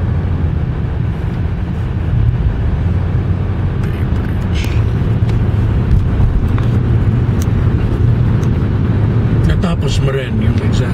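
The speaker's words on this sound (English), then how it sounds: "Grabe pala ang traffic." Heavy road traffic on a busy Saturday in San Francisco, a steady dense roar of engines and tires filling the whole stretch, with people talking over it throughout.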